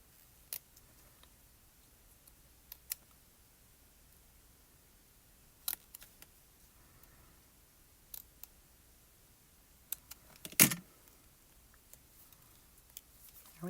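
Scissors cutting paper up the center, sparse isolated snips and clicks spread over a quiet room, with one louder, sharper cut partway through.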